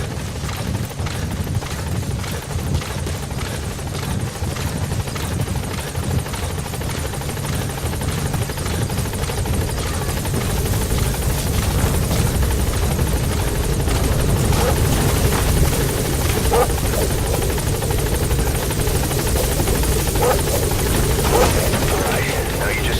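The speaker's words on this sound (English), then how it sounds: "Support helicopter extraction arrived at Mother Base." A support helicopter hovers and flies during an extraction in Metal Gear Solid V, giving a loud, continuous rotor thrum and whine that holds for the whole stretch. The chop swells slightly toward the end.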